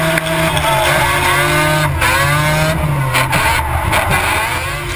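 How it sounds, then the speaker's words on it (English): Drift car at full throttle during a D1NZ drifting championship grand final run in Taupo, engine screaming loud and continuous with rising and falling revs over tyre squeal. "Zach Pohl put on a stunning drive against the Red Bull RX-7."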